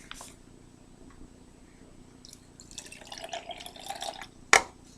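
Faint liquid trickling and splashing into a reborn doll's baby bottle, building gradually, followed by a sharp clink of glass near the end.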